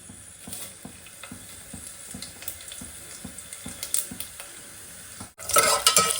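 Whole spices frying in oil in a pan for Telangana bagara rice, a soft continuous sizzle with scattered stirring taps, then a brief louder burst of sizzling near the end, no voices.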